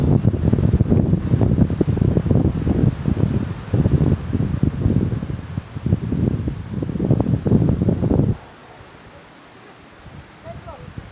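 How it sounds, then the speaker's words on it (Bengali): Strong gusty wind sweeps through a village in Papua New Guinea beside a large banyan tree, buffeting the microphone with a loud, rough roar for about eight seconds before dropping away to a quieter hush, while someone talks over it. "কি পরিমাণের বাতাস"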